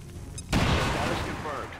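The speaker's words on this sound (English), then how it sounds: "we'll just throw a grenade at that guy" A sudden loud blast of a grenade exploding in the XCOM 2 video game, erupting halfway through and rolling out into a long rumbling, debris-filled decay after a quiet lead-in.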